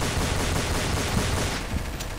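Gunfire in the video game Counter-Strike: Source, a dense, loud stream of rapid shots that continues without a break over a short stretch, with no talk.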